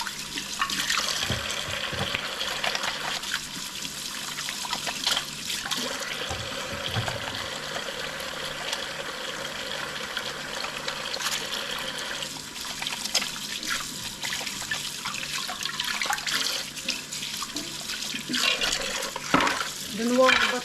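Hands washed under a running tap at home, with water streaming and splashing steadily into a sink for the full stretch, fairly close and continuous.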